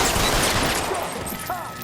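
Gunfire in the L.A. Noire video game crackles in a dense, loud burst that eases slightly toward the end, with a voice talking over it.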